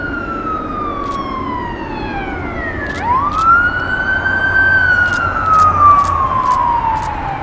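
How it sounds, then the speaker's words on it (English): An ambulance returning from a crash passes by with its siren wailing, growing louder as its long sweeping tone drops and then rises again. "That was the ambulance coming back from the crash."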